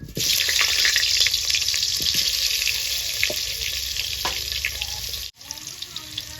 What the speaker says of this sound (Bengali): আমি আলুটাকে ভেজে নেব